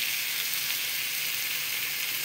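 Chopped tomatoes, a pinch of sugar, ginger, garlic, turmeric and spices for ghugni sautéing in a pan, giving a steady, even, loud sizzle and hiss throughout with no voices.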